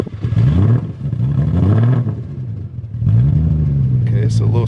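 A Nissan G35 engine runs and revs in loud, rising surges with short pauses between, close by, while people talk and shout over it.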